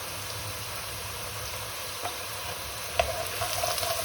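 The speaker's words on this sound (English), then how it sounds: "So the lardo starts now melting" Lardo melting and frying alongside vegetables in a pot with bay leaf, a constant close sizzle with a couple of faint stirring clicks, no talk.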